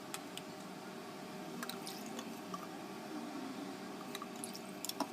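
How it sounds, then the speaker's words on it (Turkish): Vinegar pours into glass pickle jars for a mixed vegetable pickle, a soft continuous liquid trickle with faint drips and small clinks, quiet and close. "Her kavanoza birer çay bardağı sirke ilave ediyorum arkadaşlar"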